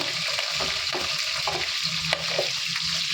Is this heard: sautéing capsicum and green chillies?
yes